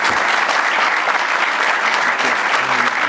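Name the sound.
audience applause for panel presenters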